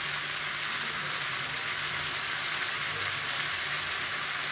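Cabbage with egg and meat sautés in a pan, giving a steady, even sizzling hiss at moderate level with no talking.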